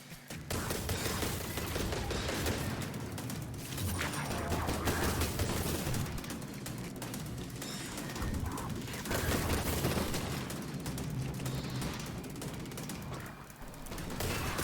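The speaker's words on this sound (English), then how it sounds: "I found that pumping Malfeasance rounds into him was the easiest option." The Malfeasance hand cannon fires repeatedly at a boss in the Destiny video game's Harbinger mission, dense continuous shots and mechanical clatter layered with combat effects throughout.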